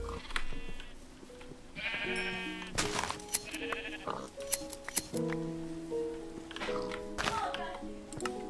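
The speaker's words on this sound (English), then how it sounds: "I'm gonna go shear the sheep" Minecraft sheep bleat repeatedly, mixed with quick snipping shear sounds and other game effects, while a player talks quietly in the background.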